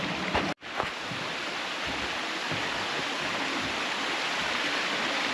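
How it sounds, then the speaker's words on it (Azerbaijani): A small waterfall at a clean spring spills steadily, a dense, even rush of water close by that runs unbroken, with one brief knock near the start. "mini şəlalədir."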